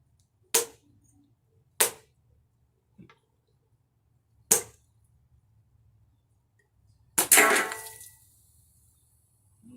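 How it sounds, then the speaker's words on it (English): A glass bottle filled with carbonated water from a SodaStream is struck: four sharp, separate knocks spaced a second or more apart, then a louder hit trailing into a brief hissing burst, with no voices. "I filled this up with some carbonated water from my SodaStream, and we're going to hit this again and see what happens."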